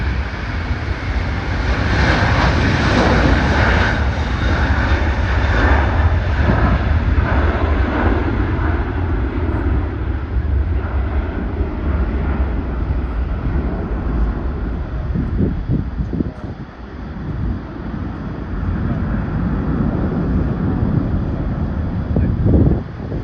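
Qantas Airbus A330 airliner departing, a loud continuous jet engine roar with a broad rumbling wash that slowly shifts and fades slightly as the plane climbs away, heard alone with no voices.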